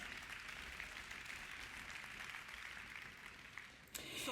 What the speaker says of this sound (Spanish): Vamos a aplaudirles a nuestros líderes.